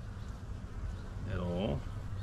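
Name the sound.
honeybees buzzing at an open hive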